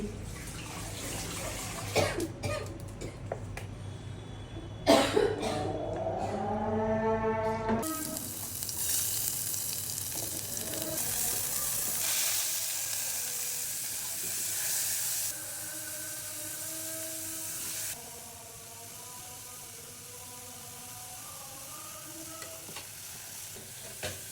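Oil sizzles and hisses steadily in a pan while food fries for a homemade chicken cheese pasta, with stirring clatter and a voice talking briefly early on, the frying continuing as a broad constant hiss.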